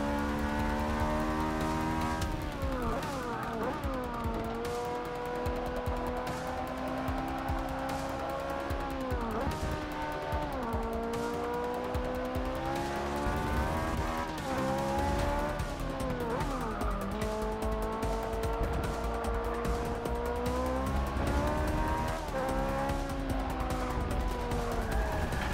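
A Ferrari 458 Speciale laps the Spa circuit, its engine loud and close and rising and falling in pitch through gear changes, accelerations and braking, with tyre squeal over about twenty-five seconds.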